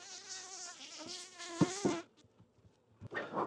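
Honey bees at a hive entrance make a close, loud, wavering buzz that drops away midway, then a second burst of buzzing returns near the end.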